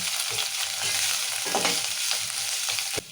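Coriander, mint and curry leaves frying in oil for tomato rasam, a close, steady sizzle with soft stirring and scraping, alone with no voices.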